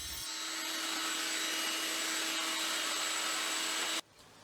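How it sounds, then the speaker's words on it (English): A household hoover connected to the dust port of an Evolution Rage 5S table saw roars steadily with a broad hissing whine while pulling away sawdust, then cuts off abruptly near the end. "The dust extraction on this table saw works really well as well. Once it's hooked up to my hoover, it does remove quite a bit of sawdust."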